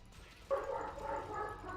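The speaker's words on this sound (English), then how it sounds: "Sorry about my dog, guys." A dog gives a single short bark or yip indoors, fairly faint and off-mic, ringing briefly before fading into quiet room tone.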